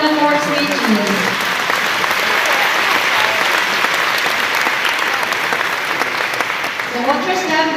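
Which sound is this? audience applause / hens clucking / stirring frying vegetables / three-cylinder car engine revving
audience applause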